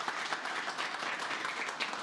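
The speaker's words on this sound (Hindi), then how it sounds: "एक बार जोरदार ताली बजाओ सूरज की।" Applause from an audience at a training farewell and certificate function, a continuous dense patter of many hands clapping at moderate volume.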